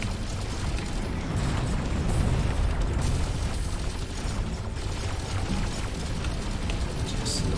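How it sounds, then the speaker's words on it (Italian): In the video game Serious Sam 4, explosions from machine gun fire boom and crackle in a dense, continuous barrage, loud and close, mixed with mechanical game effects. "Sti mitra però vanno le esplosioni"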